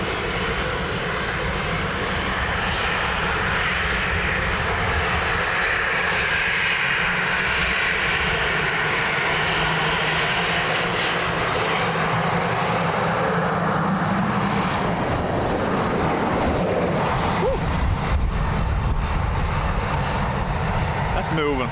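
A Ryanair jet roars steadily as it lands at Dublin Airport, a broad sustained engine and airflow noise that stays loud throughout, with faint radio talk underneath at times.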